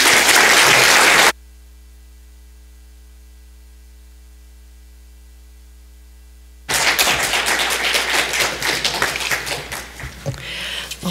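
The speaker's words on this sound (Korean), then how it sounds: "우리 박수하겠습니다." A church congregation at a Korean Sunday worship service breaks into dense, loud applause that starts abruptly after a quiet pause and continues steadily to the end.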